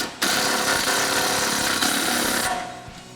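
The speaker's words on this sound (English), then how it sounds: "I'm going to take my 18mm on my 3/8 electric impact gun." A 3/8-inch electric impact gun with an 18mm socket tightens the upper ball joint nut on a 2011-2022 Dodge Challenger during a coil-over install, a loud, close, continuous buzzing hammer lasting over two seconds before winding down.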